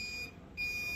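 A turn signal beeper on a homemade vehicle control panel, a thin high electronic tone that cuts off briefly and resumes, quiet and close.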